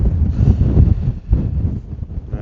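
Strong gusting wind buffeting the microphone on a mountain summit in the Arrochar Alps, loud low roaring surges that swell and ease in uneven gusts.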